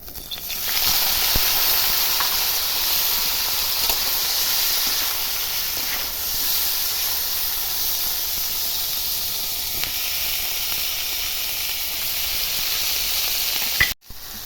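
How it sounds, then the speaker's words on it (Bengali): Boiled banana pieces frying in hot mustard oil in a wok give a loud, steady sizzling hiss that holds through the whole stretch, with no voices over it. "কড়াতে সর্ষের তেল দিয়ে দিচ্ছি তেল গরম হয়ে গেছে সেদ্ধ করে রাখা কলা দিয়ে দেবো"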